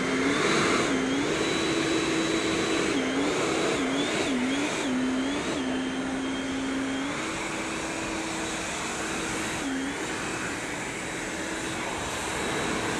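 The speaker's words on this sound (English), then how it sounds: "so that's basically it with the HART blower. Hit the turbo." A HART 40-volt cordless leaf blower runs on turbo in a loud, steady whine that holds throughout, with pitch dips and rises as the trigger and power boost are worked, and no talking.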